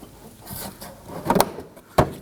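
A pocket screwdriver wiggles and pries at plastic bumper cover clips on a 2018–2024 Toyota Camry, producing brief close scraping rubs and a sharp snapping click as a clip releases.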